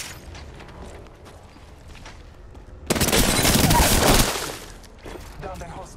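Enemy gunfire in Apex Legends, starting as faint scattered shots and swelling into a loud, dense burst for about a second before fading back, with game voice callouts mixed in.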